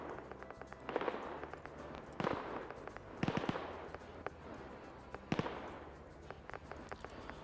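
Mortar fire in a PvP military video game match, a series of distant booming blasts and crackling impacts spread at irregular intervals, moderately loud with no voices.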